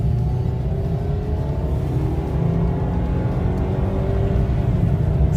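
A Ford Maverick engine revs hard under heavy acceleration, a steady loud rumble with rising harmonic tones sweeping up through the gears, close and continuous with no talking.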